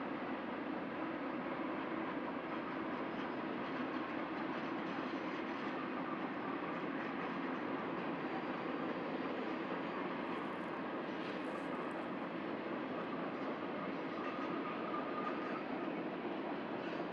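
A BNSF freight train delivers Metrolink F-125 locomotives with idler cars between them in Southern California, passing as a steady, broad rumble heard from a distance with no talk.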